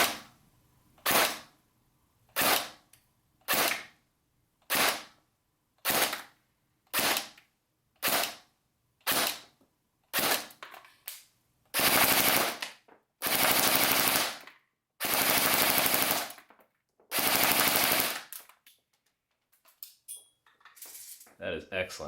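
Airsoft gun on a 7.4 volt LiPo firing 0.2 gram BBs, first as single semi-auto shots in a steady even rhythm, then as several loud close full-auto bursts of rapid fire, with no talk.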